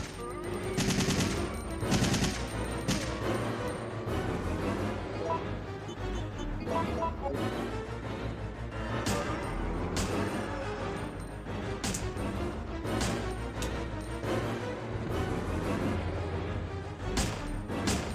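Repeated gunfire from Resident Evil 3: Nemesis on PS1, a steady run of sharp shots and bursts over a dense, noisy game background, moderately loud and continuous.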